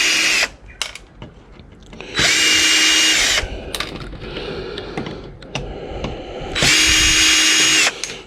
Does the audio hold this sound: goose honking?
no